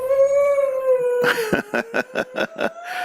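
Puppy giving a long drawn-out howl that breaks into a series of short, rhythmic whimpering yelps, close and loud, with no talk over it.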